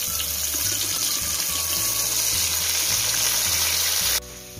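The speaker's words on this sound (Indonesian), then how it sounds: "kita tumis bahan kita ni sampai dia pecah minyak" Ground spice paste fries in hot oil for a Thai spicy eel stir-fry, a loud continuous sizzle and crackle that cuts off abruptly near the end.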